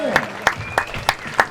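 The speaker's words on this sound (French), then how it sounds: "Et on peut les applaudir" Slow, evenly spaced claps ring out at the FIP Silver padel tournament on La Réunion for the finalists, about five distinct beats over a murmuring crowd.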